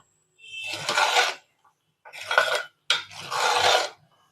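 Pongal, a rice and milk dish, being stirred in a pot: three bursts of scraping and rubbing against the metal, each about a second long, with brief pauses between.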